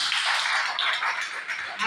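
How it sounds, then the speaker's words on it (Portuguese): A Baptist church congregation clapping during a Sunday family service, a brisk, moderately loud round of many hands with voices mixed in over it. "Uma salva de palmas para o Senhor Jesus."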